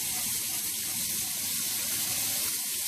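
Running water rinsing a trimmed pompano fish in a Filipino kitchen, a steady close hiss of tap flow that holds constant throughout with no voices over it.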